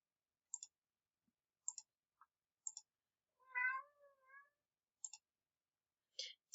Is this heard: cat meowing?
yes